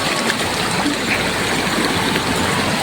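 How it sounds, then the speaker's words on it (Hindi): A big, fast-flowing river in a hill village, swollen after rain, rushing in a steady close roar with no talking over it. "पानी का बहाव दोस्तों इतना तेज है"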